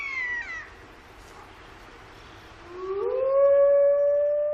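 Wolves in Siberia howl, one long rising howl swelling in from a quieter start and holding steady and fairly close, with an earlier shorter wavering call fading out beforehand.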